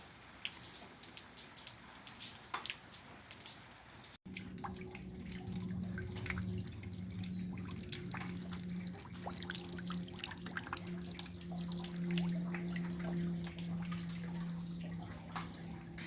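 Rain dripping during the first rainfall after several months, steady patter and scattered drips with a low watery hum beneath, continuous and fairly close.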